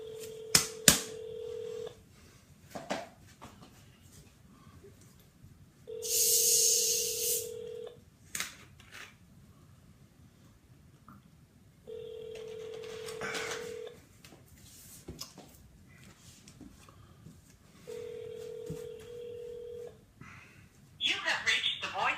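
Phone dialing with repeated steady tone bursts alternating with pauses, several separate rounds of tones across the stretch, with occasional short clicks and bright chirps between them; speech is tagged but no words come through.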